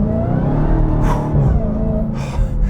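A 2021 Dodge Charger SRT Hellcat Redeye engine revs loud and close, a sustained throaty roar that rises and swells as the throttle is rolled on, with a brief whine layered in.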